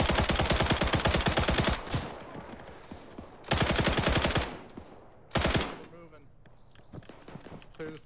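Loud automatic gunfire in a World War II military video game arrives in three bursts of rapid shots, separated by quieter stretches of low rumble and distant noise.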